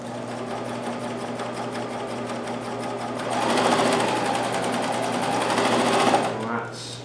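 A Janome CoverPro 1000 coverstitch machine sews a chain stitch, its steady mechanical whir running close and continuous, growing louder and busier partway through before tapering off near the end.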